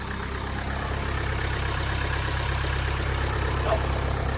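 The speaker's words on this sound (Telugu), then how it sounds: "సింగిల్ సెల్ఫ్లో బండి స్టార్ట్ అవుతుంది." A 2017 Mahindra XUV500 W10 engine idles steadily up close, a smooth, even low hum with no break, no voices.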